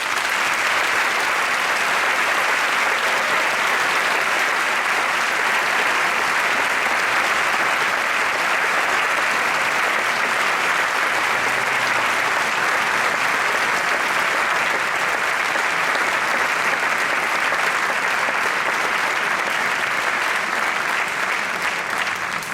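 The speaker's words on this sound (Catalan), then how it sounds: "I vull que vostès els premien en un aplaudiment." Sustained, dense applause from a large audience fills the hall evenly for the whole stretch, loud and unbroken, at an evening festival gathering in Valencia.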